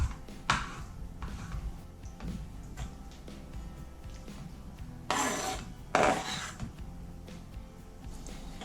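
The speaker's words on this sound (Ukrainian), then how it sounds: "Тепер наріжу на такі невеликі шматочки." A knife chopping mushrooms into small pieces on a cutting board: irregular taps and scraping strokes, with a couple of louder swishing cuts, close by and without speech.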